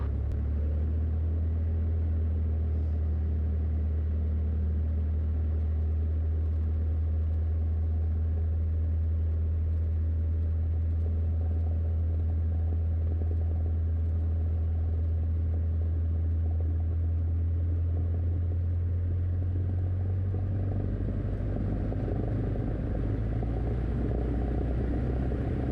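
A Cessna 152 training aircraft's engine drones steadily and loudly through departure, a constant low rumble that swells and thickens toward the end as power builds.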